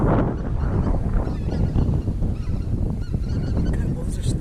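A large flock of snow geese honks continuously during a hunt in Alberta, a dense, loud overlapping clamor with wind noise underneath.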